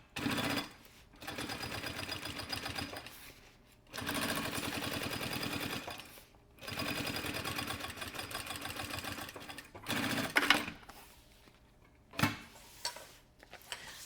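Sewing machine running in several sustained bursts with short pauses between them as it topstitches the front panel of an anti-theft backpack, the needle chatter close and steady, no talking.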